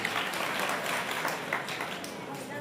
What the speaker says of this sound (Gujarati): ફરીથી દીકરીને તાળીઓથી બતાવો.